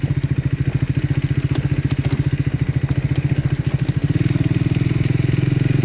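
Motorcycle engine chugs with a rapid, steady pulsing beat while riding a rocky mountain path toward a remote village in northern Thailand, loud and close, with clatter and rattle over the rough ground.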